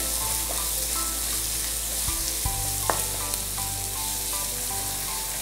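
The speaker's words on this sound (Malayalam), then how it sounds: "സവാളയെല്ലാം പെട്ടെന്ന് തന്നെ മുരിഞ്ഞ് കിട്ടും." Onions with salt fry in a pan in a steady, close sizzle, with a few sharp utensil scrapes and clinks cutting through the continuous crackle.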